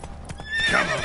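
Roach, the horse in The Witcher video game, galloping with steady hoofbeats and a whinny rising near the end; close and fairly loud, no talk.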